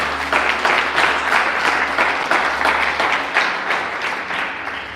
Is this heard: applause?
yes